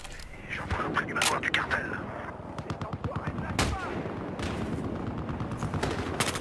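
Rapid bursts of enemy gunfire in the Battlefield Hardline multiplayer video game, sharp repeated shots and crackling volleys throughout, with occasional heavier blasts, loud and close against a busy battle soundscape.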